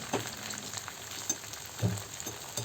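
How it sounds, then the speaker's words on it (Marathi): Cut baati dough balls frying in oil in small batches over a low flame, a faint, steady sizzle with a few soft bubbling bursts and no voices. "आपण जेवढ्या बनवले होते कट केल्या होत्या बट्ट्या तेवढ्या सर्व तळून घेऊया थोड्या थोड्या करून"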